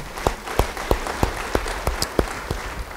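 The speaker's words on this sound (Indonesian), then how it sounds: "Beri tepuk tangan bagi firman." A church congregation claps in slow, evenly spaced beats, about nine distinct claps in a steady rhythm, moderately faint against a room hum.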